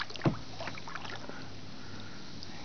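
A kayak on Table Rock Lake, paddled one-handed while circling a cove: a single close splash of the blade near the start, then soft faint water noise under light wind.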